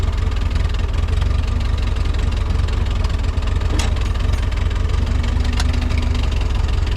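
Ford 8N tractor engine running steadily with a low, even rumble and mechanical knock, close and loud throughout, with no talk.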